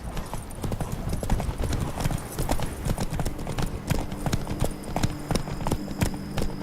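In The Witcher 3: Blood and Wine, a horse gallops hard, its hooves pounding in a fast, continuous, close rhythm among other game sounds.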